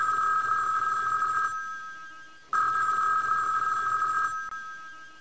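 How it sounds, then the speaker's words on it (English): Telephone ringing in the Sesame Street Numbers computer game, two loud electronic bell rings separated by a short pause, each ring trailing off. "Elmo loves to hear the phone ring!"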